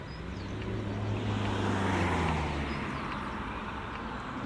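Steady road traffic rumbles as a continuous wash of engine and tyre noise, a passing vehicle swelling slightly mid-way, with faint birds in the background.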